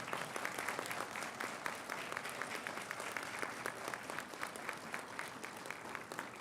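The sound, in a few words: commencement audience applauding graduates' supporters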